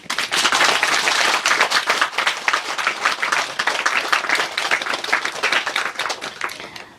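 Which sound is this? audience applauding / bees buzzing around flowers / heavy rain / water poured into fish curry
audience applauding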